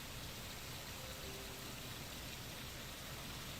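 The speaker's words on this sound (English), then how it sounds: "Sound of rain surrounds you despite the clear skies above." Steady rain in a video game hisses evenly and fairly loud across the whole stretch, a dense wash of patter with no talk over it.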